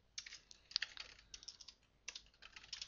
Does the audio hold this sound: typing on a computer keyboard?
yes